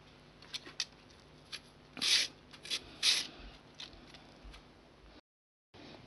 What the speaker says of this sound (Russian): можно на обыкновенной кухонной терке также натереть на крупненьком этом